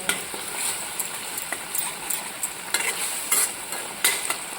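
Onion and garlic gravy sizzles in an iron wok, a steady frying hiss broken by the scrape and clink of a stirring spoon against the metal, close up and without voices.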